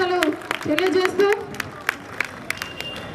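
An outdoor crowd at a farmers' tractor rally in Jagtial claps for MLA Sanjay Kumar, scattered applause and sharp individual claps with voices over the first half, thinning to sparse claps.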